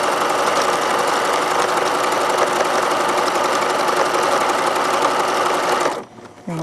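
A sewing machine runs steadily, stitching a ruffle onto a knit skirt, with a loud continuous whirring hum that stops abruptly near the end.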